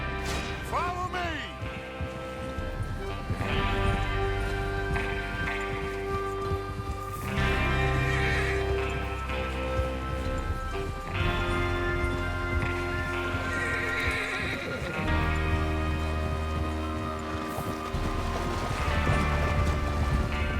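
Horses in Red Dead Redemption 2 neighing and whinnying over steady clip-clop of hooves, with creaking tack and mechanical clatter, several animals close by, mixed with game music or ambience throughout.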